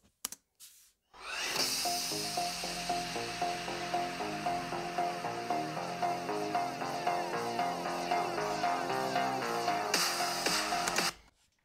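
Music played through the four-speaker setup of a Lenovo Yoga Pro 7 Gen 9 AMD laptop at half volume: a steady, full mix with a strong bass line and bright highs that runs continuously for about ten seconds.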